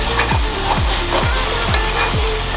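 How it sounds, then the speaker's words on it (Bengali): Fish-head and cabbage ghonto stirred in a kadai, with a spoon scraping the pan in steady strokes about every half second over a constant close sizzle. "একটু নেড়ে নিতে হবে, বারবার নাড়তে হবে, নাহলে কড়াই নিচে লেগে যেতে পারে।"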